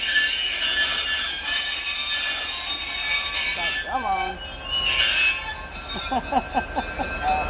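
Museum train rolling on rails with steel wheels squealing loudly as the brakes are pumped, a steady metallic rumble underneath and a brief spoken voice partway through.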